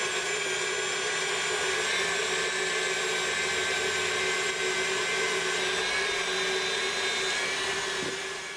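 An electric mixer whirs with a steady high motor whine as it whisks egg whites to a froth, running continuously and close with no talking.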